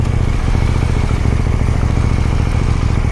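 A KTM 890 Duke R motorcycle engine runs steadily and loudly up close, a rough, clattery mechanical note held without letup.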